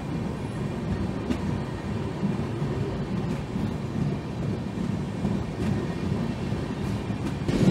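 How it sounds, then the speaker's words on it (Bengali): Kanchankanya Express 13149 standing at Kamarkundu station, giving a steady low rumble and broadband hum throughout, with faint clanks and no talk. "কামারকুণ্ডু স্টেশনে আমাদের এই 13149 কাঞ্চনকন্যা এক্সপ্রেস এসে পৌঁছেছে"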